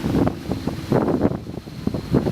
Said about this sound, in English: it's incredibly windy out here